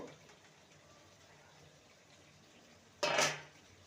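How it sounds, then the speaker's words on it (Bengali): A metal lid lifted off a cooking pot of simmering patol curry with the gas flame just switched off, one short bright clatter near the end after quiet kitchen background. "ঢাকনাটা খুলে দেখে নেব"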